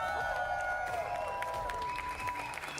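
A crowd applauds steadily throughout at a VCT EMEA Stage 1 grand final watch party between Vitality and Team Heretics, with a continuous bed of clapping from a large audience under a bright sustained tone.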